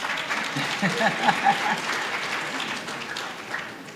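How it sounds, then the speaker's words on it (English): An audience applauds steadily, many hands clapping together in a dense, sustained patter that slowly tapers off. "If you want to clap, clap."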